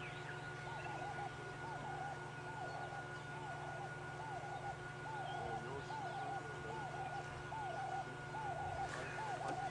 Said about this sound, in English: the ground hornbill makes a very iconic sound. It's the one bird that sounds like a lion roaring